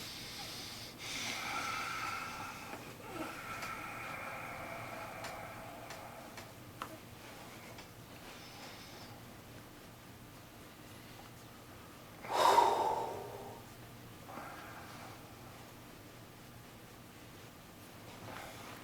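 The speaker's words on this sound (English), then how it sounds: "Big breath." During an intense face massage for a tight jaw and TMJ, one deep, audible breath swells up about two-thirds of the way through. The rest is a quiet room with faint ticking and soft rustles.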